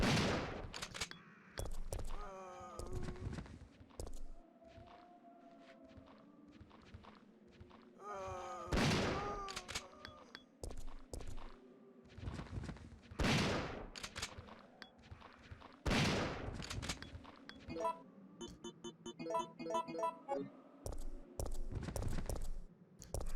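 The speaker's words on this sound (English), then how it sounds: "The shotgun is just so consistent in this game." Shotgun blasts in Resident Evil 3 Nemesis, several loud separate booms spaced a few seconds apart, with footsteps, clanks and creature sounds between them and no talking.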